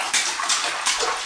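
A small child splashes bathwater in a tub, with three quick sloshing bursts close by and no talking.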